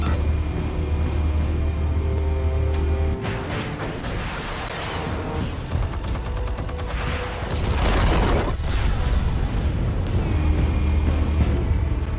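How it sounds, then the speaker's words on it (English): Explosives detonating in Batman: The Telltale Series, heavy booming blasts and rumbling debris over a constant low engine-like drone, with a loud burst midway and a second surge later. "Explosives armed. Fire when ready."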